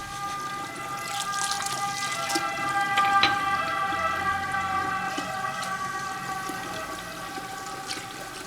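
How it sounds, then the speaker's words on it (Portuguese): An ambulance siren passes outside a house, a steady sustained wailing tone that sounds moderately distant over a constant background hiss, with no talking. "Ó, ambulância."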